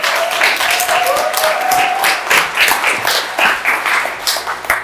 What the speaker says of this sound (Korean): 우리 레드티어 컨설턴트님께 큰 박수를 부탁드립니다.